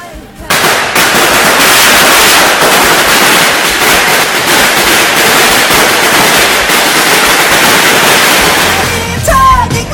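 Firecrackers bursting in a dense, continuous crackling barrage for nearly the whole stretch, loud and close, with brief voices near the end.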